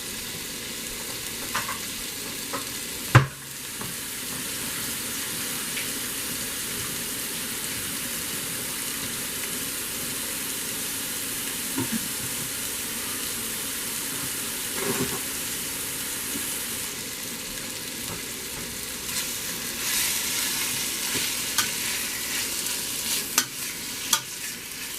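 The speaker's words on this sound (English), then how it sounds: "I'm going to stir it around like this until I get it brown." Beef browning in a pot for vegetable beef soup, with a steady close sizzle throughout and a utensil scraping and stirring now and then, including a sharp clank near the start.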